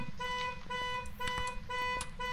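A car alarm in the video game Phasmophobia beeps in a repeating pattern of tonal pulses, about four cycles over a couple of seconds, fairly faint under background noise.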